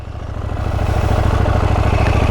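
Motorcycle engine at low revs while the clutch sits at its biting point, a close, steady rhythmic thrum that rises slightly in loudness, with no talk over it.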